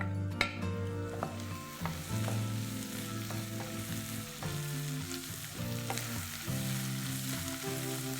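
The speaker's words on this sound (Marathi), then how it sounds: "कांद्याची पात छान परतून झाली आहे" Around two cups of chopped spring onion greens sauté in a pan, giving a steady sizzle with occasional stirring clatter beneath background music, close and moderately loud.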